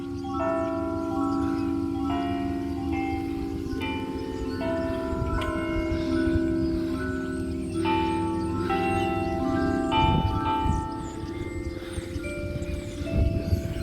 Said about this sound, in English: There's where all the bells are coming from.